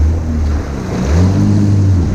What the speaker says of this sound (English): It's super windy. The wind is pulling south, but you can feel it.